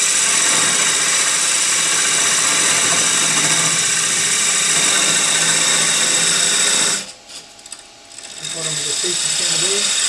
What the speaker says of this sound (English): Use this fluted parting tool just to come in here a bit